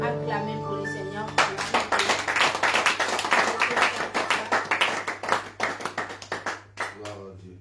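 A church congregation at a special worship service claps and cheers for the Lord, with dense rhythmic handclaps and voices filling the room after a brief quieter opening, close and loud throughout.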